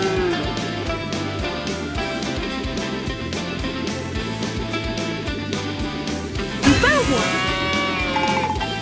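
A cartoon cow moos once in the PAW Patrol Rescue World video game, a short gliding call rising over constant upbeat background music with character voices speaking throughout.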